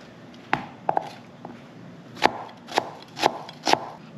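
A knife chopping onion finely on a cutting board at home, several sharp distinct strikes, a few spaced apart then a steadier run of five, close and fairly loud with no voice.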